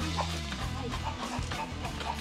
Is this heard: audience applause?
no